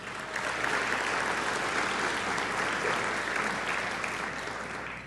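Steady audience applause at a Tri-Citian of the Year awards dinner for event sponsors, a full room clapping evenly for about five seconds before tapering slightly at the end.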